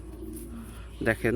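Lal Lahori pigeons coo in a low, steady murmur under a brief spoken word, which then gives way to voices near the end.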